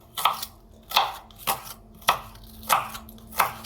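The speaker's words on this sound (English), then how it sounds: "you can just slice it up nice thin" A knife slices a cucumber into thin rings on a cutting board, six crisp evenly spaced cuts, each a short crunchy thud, close and clear with no talk.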